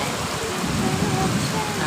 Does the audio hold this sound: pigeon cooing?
no